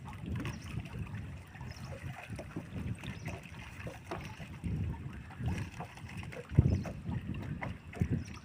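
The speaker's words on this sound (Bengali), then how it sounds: "এত প্রচণ্ড হাওয়া" Strong wind buffeting a boat on a river while a fishing net is hauled in, steady rumbling gusts over the microphone with faint knocks and water sounds, fairly quiet with no talk.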